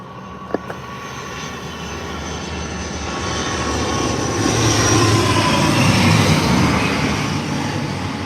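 An airliner from Dublin lands at Leeds Bradford Airport in stormy weather, its engine roar building from a distant rumble to a broad, loud whoosh and holding steady, with wind noise around.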